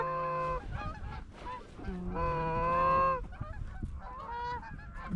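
A flock of geese honks overhead during a field hunt, with many overlapping calls that come close and loud in rising and falling bursts. No one speaks.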